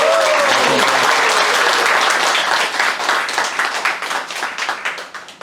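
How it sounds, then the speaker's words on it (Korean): An audience at a photographer's talk event bursts into loud, sustained applause, a dense wash of many hands clapping that gradually thins into scattered claps toward the end. "큰 박수."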